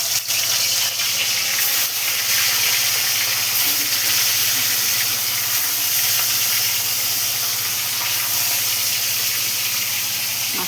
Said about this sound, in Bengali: এই মাছটা একে একে ছেড়ে দেবো তেলে।